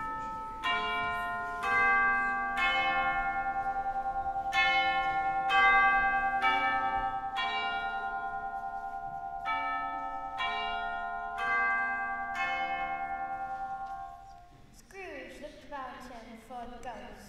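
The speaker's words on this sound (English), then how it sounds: "The chimes were ringing" A church bell in a school stage production of A Christmas Carol chimes about a dozen evenly spaced strokes, each ringing on with a long sustained tone before a softer jumble of tones at the end.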